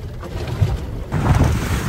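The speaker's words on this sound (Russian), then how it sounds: "Начались волны конкретные, ветер поднялся" Wind buffets the microphone while rough ocean waves churn and slap around a fishing boat, the noise surging louder halfway through.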